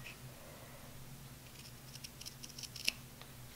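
Small scissors cutting away the top fabric layer of a reverse appliqué whole-cloth quilt, giving faint close snips and scratchy rustles that grow busier, ending in one sharper cut.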